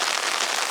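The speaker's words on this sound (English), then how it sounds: "I'm standing under the rain. It is pouring. And it's freezing rain." Freezing rain pouring down outdoors in a yard: a dense, steady hiss of heavy drops hitting surfaces, close and continuous through the short moment.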